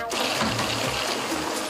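Water rinses over an iPhone in a Trident case, a dense steady splashing stream from a tap, close and fairly loud for a couple of seconds.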